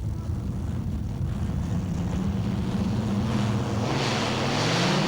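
A pulling tractor powered by two Rolls-Royce Griffon aero engines from a Shackleton bomber, about 5,000 horsepower, at a 1994 Euro Series pull in Holland: a steady, loud, deep roar rising in pitch as it accelerates down the track.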